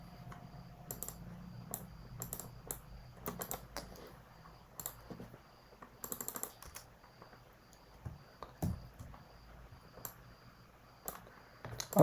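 Someone types a password on a computer keyboard: soft, close key clicks in irregular bursts and pauses against a quiet background.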